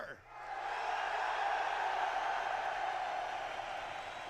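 A live esports arena crowd at the Blast Lisbon grand final cheers in a broad, sustained roar that swells after a brief dip and then holds steady and distant.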